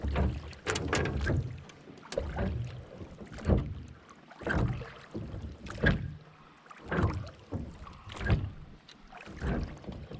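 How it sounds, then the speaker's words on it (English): A boat trolls for smallmouth bass on a calm reservoir, heard as a series of close, rhythmic whooshing and splashing strokes about once a second, with quieter water between them and no talk. "So we're trolling along here for some smallmouth bass from the reservoir."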